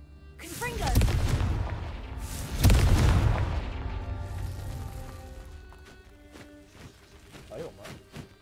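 Two heavy booming blasts from the Confringo spell in Hogwarts Legacy roll out about a second and a half apart, each a deep explosion with a long rumbling tail, followed by fainter game sounds.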